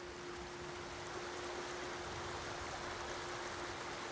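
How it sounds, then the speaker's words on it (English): A waterfall in Ghost of Tsushima pours in a steady, dense broadband rush, close and even throughout, with a faint steady tone running beneath the water noise. "Under the waterfall."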